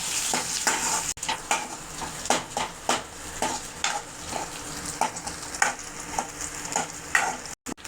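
Small onions and dried chillies frying in a pan for sundakkai kuzhambu, a constant close sizzle broken by repeated rhythmic scrapes and clinks of a spoon stirring against the metal.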